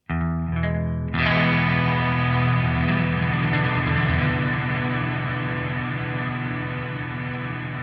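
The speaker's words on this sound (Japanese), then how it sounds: "ずーっと音が伸びてるようなリバーブっていうのが1台でできる" An electric guitar plays through an EarthQuaker Devices Zoar pedal. A few short plucked notes lead into one strummed chord that swells into a long, sustained shimmer reverb and slowly fades.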